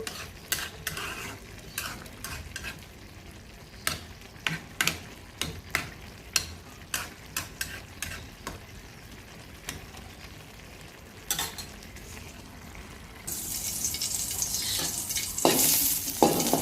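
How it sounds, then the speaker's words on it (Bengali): Flat beans fried in a pan on a home stove: a soft background sizzle with repeated sharp scraping and tapping strokes of a stirring utensil, then a louder burst of hissing frying near the end, no voices. "আমি সমস্তটা ভেজে নিচ্ছি"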